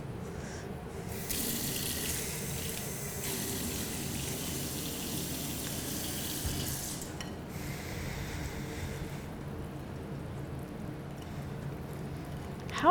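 Water runs steadily from a kitchen tap into a sink while pumpkin bread is being made, a continuous close gush lasting about thirteen seconds with slight shifts in flow.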